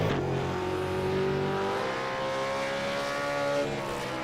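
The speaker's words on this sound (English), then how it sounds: "You're gonna love the sound of these screaming engines, man." V8 Supercar engines scream in a sim racing game at Circuit of the Americas, a dense, loud, continuous high-revving roar with rising pitch sweeps as cars accelerate together.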